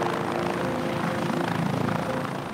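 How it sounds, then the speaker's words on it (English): A helicopter hovering close by during Mexican wolf field operations, its steady rotor thump and engine roar loud and constant throughout. "reviewing procedures to safely enter and exit a hovering helicopter"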